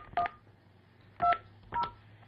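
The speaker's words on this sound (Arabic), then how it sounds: "انا افتح لكم الهواتف اريد ان اتصل باحد شيوخهم" A telephone number being keyed in, three separate dial-tone beeps spaced irregularly, clear and close against a quiet background with no talking.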